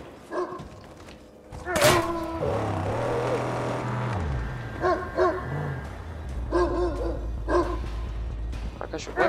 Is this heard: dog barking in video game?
yes